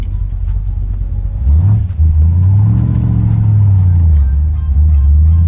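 A 1981 Corvette GM Performance ZL1 Anniversary Edition with a 427ci engine pulls away, its deep rumble swelling into a revving climb and settling back, loud and close with no talk.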